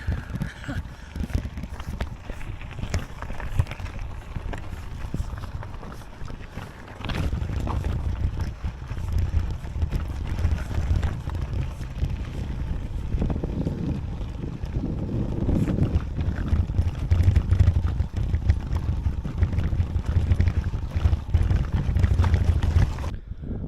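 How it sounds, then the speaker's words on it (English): Breeze blowing outdoors in the Cheviot hills of Northumberland, a continuous rushing wind buffeting the microphone with low rumbling gusts that swell louder toward the end. "there's enough breeze to keep any midge off"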